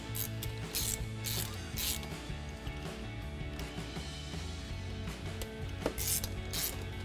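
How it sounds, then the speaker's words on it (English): Ratchet on an extension tightening the bolts of a C&L bypass valve adapter on a 2015-2017 Mustang EcoBoost, a close, steady run of fast mechanical clicking strokes with short pauses, alone without talk. "Now we'll go ahead and hook up our extension and our ratchet"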